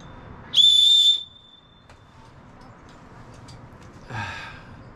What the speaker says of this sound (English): So it's a whistle, really good for safety